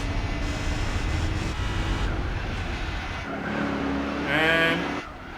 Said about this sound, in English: The DB9 sounds great.